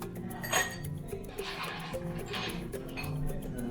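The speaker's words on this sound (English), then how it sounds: "I got some ice cubes. Put in my glass." Ice cubes clinking into a glass while preparing iced Dalgona coffee in a home kitchen, several bright close clinks and rattles spread over a few seconds with no talking.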